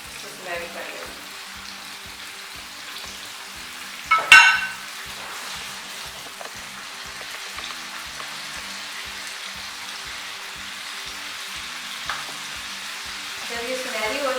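Turnips frying in oil over medium heat, a steady soft sizzle with faint crackles and a brief louder burst of spattering partway through.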